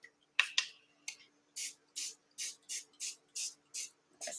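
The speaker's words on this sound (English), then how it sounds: "I spray some more vinegar on it." A handheld spray bottle misting vinegar onto an art piece, with a couple of clicks followed by about nine evenly spaced, close, hissing sprays, each short and crisp.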